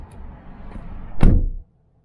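One door of a 2020 Subaru Legacy closes with a solid thump nearby, preceded by faint background rumble and followed by sudden silence.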